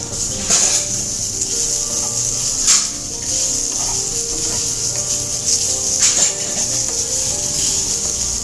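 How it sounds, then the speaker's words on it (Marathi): Onion and coconut masala paste roasting lightly in a pan for a Kalwan (oyster) curry, a steady soft sizzle with scraping and stirring rubs throughout, fairly close and continuous with a few louder scrapes. "मग मी जास्त नाही भाजत आहे नॉर्मल थोडंसं भाजत"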